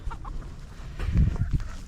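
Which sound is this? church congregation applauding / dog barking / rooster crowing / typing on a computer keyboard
rooster crowing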